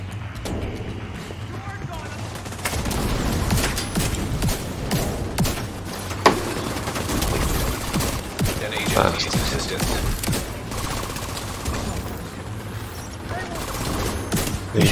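Sustained gunfire from a firefight in The Division 2, dense bursts and scattered shots running throughout at moderate loudness, with a voice talking over the combat.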